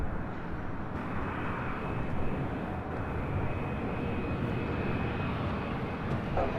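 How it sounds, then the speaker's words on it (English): A NetJets Challenger 350 business jet arrives at LAX with a continuous, fairly loud engine roar and a faint high whine running through it, with no voices. "Next arrival is NetJets Flight 701 coming from Haley. It's a Challenger 350."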